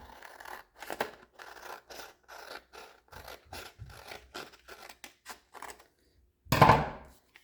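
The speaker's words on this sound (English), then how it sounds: "I can just cut along that line." Scissors snip through an oatmeal container made of two joined pieces, cutting along a line in a steady series of short crunchy cuts, close and quiet, ending with one louder rustle.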